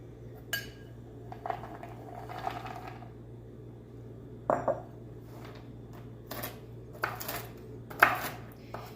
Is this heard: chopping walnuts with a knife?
yes